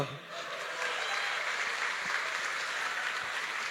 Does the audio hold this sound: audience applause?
yes